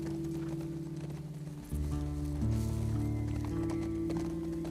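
In The Last of Us Part II, a horse gallops with a rapid clip-clop of hooves under a steady low game soundtrack and ambience, quickening and swelling midway, with no talk.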